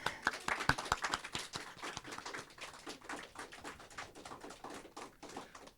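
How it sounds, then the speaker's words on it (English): Scattered applause from a small group at a school media team appreciation ceremony, sharp separate claps that stay fairly faint and thin out steadily over several seconds. "You deserve a round of applause."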